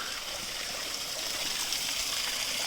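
Steady running water from a spring spout, a continuous splashing flow close by with no pauses or voices.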